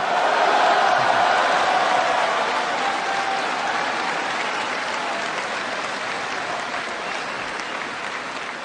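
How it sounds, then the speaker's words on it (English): An audience applauds during a political speech, a loud, sustained wash of many hands clapping that slowly fades, with faint crowd murmur underneath. "I figured that'd be an applause line"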